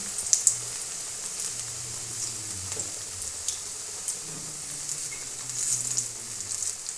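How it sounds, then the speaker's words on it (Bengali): Coriander leaf fritters (beguni) fry in a pan of hot oil. A steady, even sizzle carries on throughout, with a few small pops and light taps. "এখন আমি ধনে পাতার বেগনিটা ভাজা দেখাবো"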